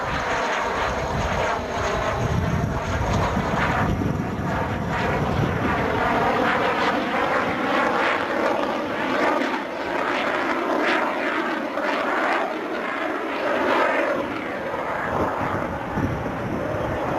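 A naval jet with an arrestor hook flies at the 1993 Fairford airshow, giving a loud, sustained engine roar and rumble with a shifting whooshing tone that swells and fades slightly as it passes.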